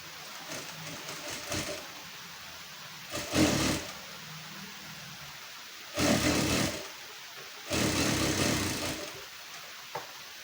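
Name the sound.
sewing machine stitching a blouse seam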